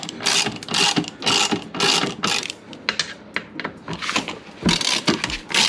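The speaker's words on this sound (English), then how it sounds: "And so just gonna loosen all these bolts." A ratchet loosens the bolts on a Lexus IS300 differential during a seal replacement, giving rapid repeated clicking bursts in an uneven rhythm, close and fairly loud, with no talk.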